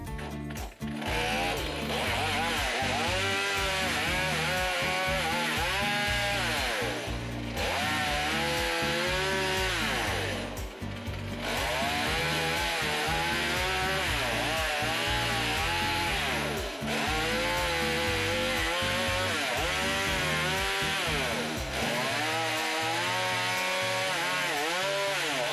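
Chainsaw carving ridges into a pumpkin, a loud continuous buzzing whine that rises and dips as the blade cuts in, around and down, with brief pauses between passes.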